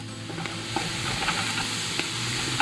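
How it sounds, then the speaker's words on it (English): Garlic and onion frying together in a pan as the base for chili, an even close sizzle with scattered pops and crackles throughout, no voices. "We've cooked these about 5 minutes. The garlic and the onion together."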